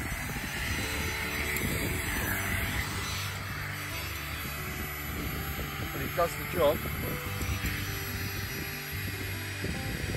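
A steady, loud electric air pump inflating a mattress hums throughout without a break, while a person speaks briefly over it.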